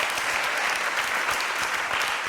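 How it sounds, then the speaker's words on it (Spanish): Audience applause fills the space, a dense, steady wash of many hands clapping at even loudness throughout, with no voices standing out. "¡Un fuerte aplauso!"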